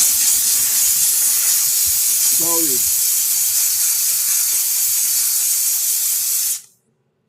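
A steam cleaner blasts a loud, continuous hiss while cleaning sneakers, running steadily for over six seconds before cutting off abruptly, with a brief spoken word under the jet partway through.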